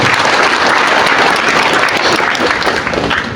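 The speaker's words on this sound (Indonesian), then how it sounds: "tepuk tangan kami bersama." A crowd at an Indonesian organisational gathering breaks into loud, dense applause that continues steadily and thins slightly near the end.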